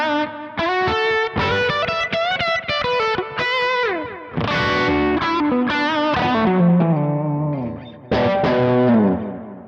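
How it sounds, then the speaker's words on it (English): Electric guitar played through a Kemper amp profile, giving a bright but rounded, slightly distorted tone with chorus-like effects; melodic lines and held notes ring loud and close, with brief gaps between phrases. "that sounds like a bright guitar into an amp, but it's not overly bright. It's actually quite rounded off in the high end"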